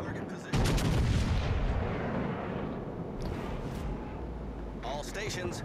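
Heavy naval guns fire in a naval warship battle game featuring the Soviet cruiser Lenin, a loud booming blast followed by sustained rumbling and crackle, with faint radio-style chatter near the end.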